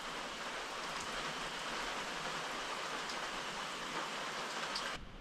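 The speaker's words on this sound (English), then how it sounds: "It's nice, steady, soaking rain out there." Steady, soaking rain falls outside in an even, dense hiss with soft pattering, quiet and constant until it drops away at the end.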